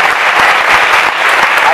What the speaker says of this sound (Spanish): Bueno, un aplauso fortísimo.